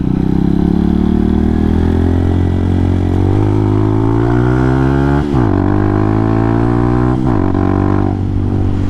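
A Hawk 250 motorcycle ridden over grass and hills, its engine loud and close with a steady drone that rises in pitch through the gears, with two quick throttle dips partway through.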